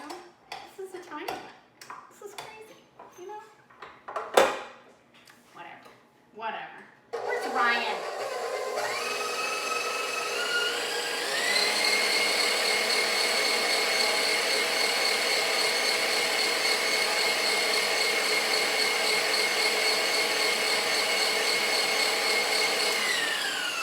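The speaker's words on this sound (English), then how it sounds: "Okay, so we're going to put in the mixer." A tiny electric hand mixer whirs steadily as it beats shortening in a bowl for an 1800s apple cake, starting after a few clinks and clatters of utensils, its motor pitch rising once and holding, with talk early on.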